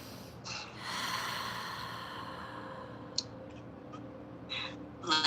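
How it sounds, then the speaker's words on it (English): A deep inhalation drawn through the nose during a guided meditation, slow and close, rising from about a second and fading over several seconds, followed by a few faint clicks and small breathy sounds near the end. "Take a deep breath."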